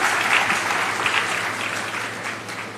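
Dense, steady applause from a large audience at an Indian government event welcoming a minister, continuous and fairly loud throughout with no speech over it.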